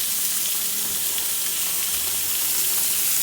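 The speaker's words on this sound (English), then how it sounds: "we're going to sear it on all sides in a hot cast iron skillet" Beef searing in a hot cast iron skillet, a steady broadband sizzle and hiss holding at an even level throughout with no voices.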